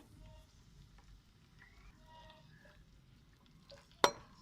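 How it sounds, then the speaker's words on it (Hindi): Onions frying in a pan for chicken pulao, a soft, low sizzle running steadily beneath faint kitchen clatter and ending in one sudden metallic clank. "प्याज जब हल्के से फ्राई हो जाएंगे"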